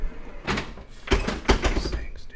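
Heavy doors in an abandoned hospital with the power still on thud and rattle, with two sharp knocks near the middle, amid close, agitated talking.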